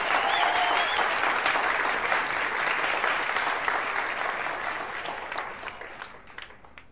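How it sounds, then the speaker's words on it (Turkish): An audience at a concert gives a loud, dense round of applause that fades gradually into scattered claps toward the end. "bir alkış alabilir miyim lütfen?"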